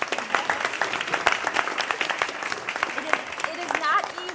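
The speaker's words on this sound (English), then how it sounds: "So I'd like a round of applause for our students." A room at a board of education meeting claps for students, with dense, steady hand-clapping running throughout and voices mixed in.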